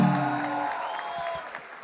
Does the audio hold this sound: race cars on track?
no